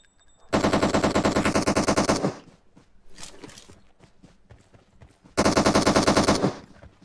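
Automatic weapon fire in PUBG Mobile on a military base, two long, loud rattling bursts with quieter scattered shots and movement noise in between.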